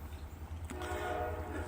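A locomotive's loud horn sounds partway through over a low rumbling engine drone. The horn enters sharply and then holds as a steady tone until the end.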